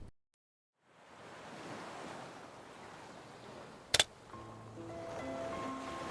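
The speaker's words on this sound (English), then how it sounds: "There's a place where thunderous waves fiercely crash against the shoreline of pebbles and stone." Surf crashes against a shoreline of pebbles and stone in a steady broadband wash after a brief silent start, with a sharp knock near the middle and faint tonal sounds layered on top toward the end.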